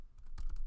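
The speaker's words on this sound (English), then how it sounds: "So I'm gonna type in" Keys are tapped on a computer keyboard in a quick cluster of soft clicks, close by and fairly quiet, with no talk.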